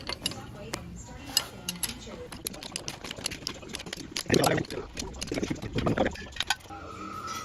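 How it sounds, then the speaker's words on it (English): Transmission bolts are tightened during a big block Chevy transmission install, giving a string of sharp metallic ratchet clicks and clanks, close and uneven in rhythm, with someone talking over part of the work. "So now I'm tightening up the transmission bolts."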